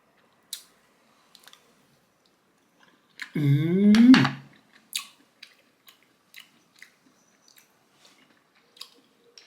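Fresh large clams are slurped and chewed up close in one brief wet burst, followed by scattered faint clicks and small mouth sounds in a quiet room.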